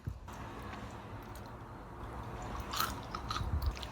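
Crunchy homemade granola is chewed up close in soft, steady crunches that get louder and sharper near the end, with no talking.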